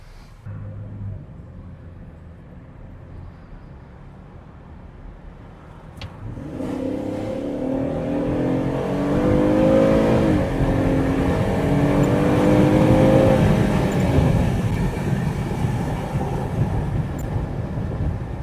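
A Chevrolet Traverse running on propane accelerates, its engine drone rising and swelling in loudness through the middle, with steady road roar underneath and no talk.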